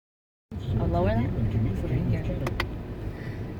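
Steady low road rumble and engine hum fill a car's interior while driving, with people talking over it throughout after a brief silent start.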